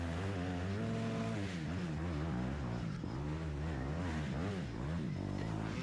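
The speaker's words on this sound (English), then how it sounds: "He's just revving up a storm at me." Dirt bike engines roar and rev hard during a motocross race, at least one two-stroke or four-stroke machine close behind, with rising and falling pitch sweeps as the throttle is blipped repeatedly over a continuous loud drone.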